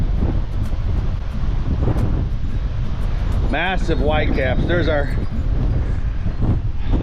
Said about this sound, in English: I don't even know if you guys can hear me. That's how big the wind is today.